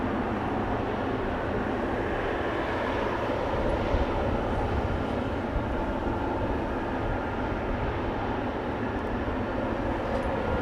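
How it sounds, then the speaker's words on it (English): A Boeing 747 does a flyover above the runway at Amsterdam Schiphol Airport. Its engines give a steady, broad, rumbling roar that carries from a distance and holds constant throughout. "747 looks to be doing a flyover for runway center."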